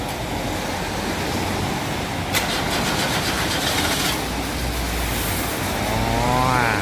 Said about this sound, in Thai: ใช้ได้นะครับติดนะครับสตาร์ตติดนะครับ